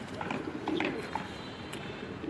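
Racing pigeons coo in a short run of soft, low, throaty calls close by, with a faint chirp near the end over quiet background noise.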